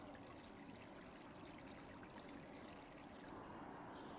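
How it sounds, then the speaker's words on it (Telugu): Faint water trickles and gurgles steadily at the base of a date palm tree in Kuwait, a soft continuous flow with no voices. "ఖర్జూరు చెట్టుకు నీళ్ళు కడుతున్నాను"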